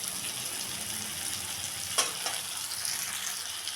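Spice masala frying with ghee and a pinch of sugar for potato curry, a steady close crackling sizzle with a couple of sharp stirring knocks near the middle.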